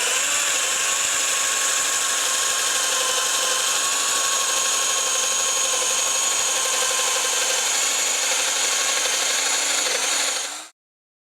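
Festool Domino XL DF 700 joiner cutting a mortise in wood, a close, steady high-pitched motor whine with a rough cutting rasp, sustained for about ten seconds before stopping abruptly.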